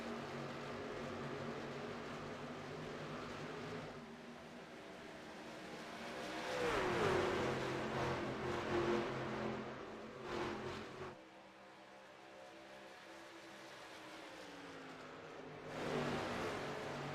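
Pack of racing trucks roaring away at a race start at Chicagoland Speedway, engines building and surging in waves as the field accelerates, a dense mechanical drone with a louder burst midway.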